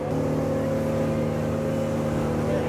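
A boat powered by two big rear engines picks up speed, its steady, loud, close motor drone holding constant tones under rushing water and wind noise.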